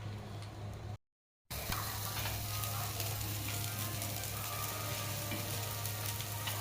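Fish fries in a pan on a gas stove with the range hood running, a dense steady sizzle over a low fan hum, broken by a brief silent cut near the start, with no talk.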